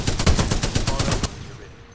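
A rapid, steady burst from the Spitfire heavy machine gun in Titanfall 2 rattles loudly for about a second and a half, then stops and leaves a fading tail.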